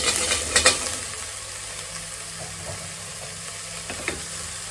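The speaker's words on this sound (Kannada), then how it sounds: "ಈರುಳ್ಳಿ ಒಂಚೂರು ಫ್ರೈ ಆಗಿದ ತಕ್ಷಣ ಮಶ್ರೂಮ್ ಹಾಕಿದ್ದೀನಿ." Mushrooms frying with onion in a pan, village style, give a soft continuous sizzle, with a few sharp scraping stirs near the start and another light clatter toward the end.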